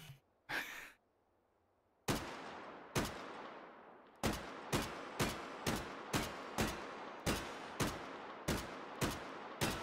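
Gunfire from a firearm in the VR shooter H3VR: one early shot, a pause, then a dozen or more sharp, loud reports in a steady, evenly spaced semi-automatic rhythm.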